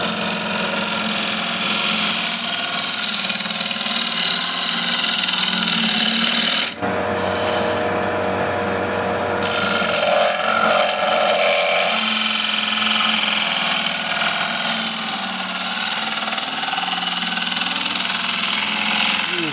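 A bowl gouge cuts into a spinning wooden bowl on a lathe, hollowing it in steps. The scraping, rasping cut runs steadily and close, joined by the motor's drone, with a brief pause and change in tone partway through.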